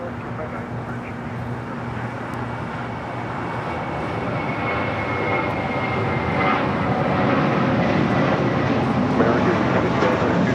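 A JetBlue jet airliner takes off from LAX runway 25 right, bound for Fort Lauderdale. Its engine roar builds steadily and grows louder across the clip, with radio-style voices talking over it.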